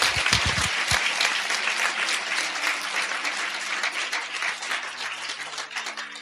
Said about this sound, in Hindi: जोरदार ताली बजा के प्रभु को धन्यवाद देंगे